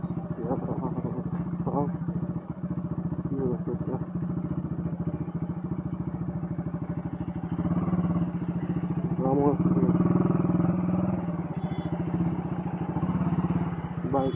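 Motorcycle riding along a road under construction, its engine droning steadily with a low hum and rising slightly midway, while someone talks over it throughout.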